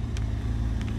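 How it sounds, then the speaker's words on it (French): City road traffic heard as a continuous low rumble of cars, steady and moderately loud, with faint higher hiss from passing vehicles and no speech. "C'est quoi toute cette circulation partout là?"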